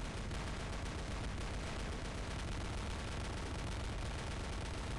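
Molot machine guns in a video game pour out a dense, continuous roar of rapid fire, loud and unbroken throughout with no gaps between rounds.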